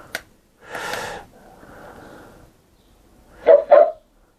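Short electronic voice utterances from a Chopper (Star Wars Rebels) robot alarm clock toy: a brief chirp, a longer synthetic phrase, then two quick bursts, each separated by quiet, no human talk.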